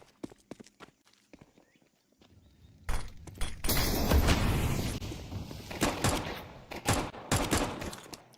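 Unsilenced USP pistol fire in a competitive esports match of a shooter game, with sharp separate shots early, then a dense stretch of rapid overlapping gunfire and more single cracks toward the end.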